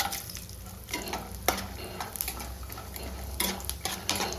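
Cashew nuts frying in hot oil with tempering spices in a pan for upma, a steady close sizzle with repeated metal spoon stirring and scraping clicks.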